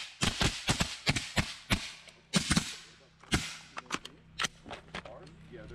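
Rapid gunfire rings out during close quarters battle training, a string of loud, sharp shots in quick irregular pairs and bursts, with brief gaps between volleys and a low steady hum underneath.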